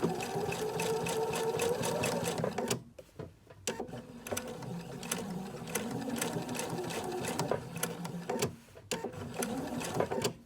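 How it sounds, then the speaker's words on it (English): Sewing machine running a straight stitch around a heart shape on a T-shirt, a fast rhythmic mechanical whir in long runs, briefly stopping and restarting as the fabric is pivoted around the curves. "we're going to sew a straight stitch around the heart"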